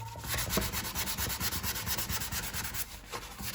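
Close, steady back-and-forth scratching of 220-grit sandpaper rubbing over varnished wood, in quick regular strokes with no voices.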